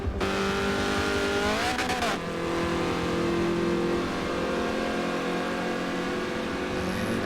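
Race car engines from the Forza racing game roar loudly and continuously, with a revving sweep as cars exit Big Bend toward the hairpin, sustained engine drone throughout.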